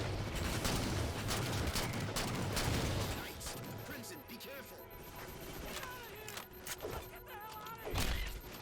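Gunfire in the video game Halo 4, rapid bursts and explosive thuds dense at first and then thinning into scattered shots amid other game effects, with a voice talking over it.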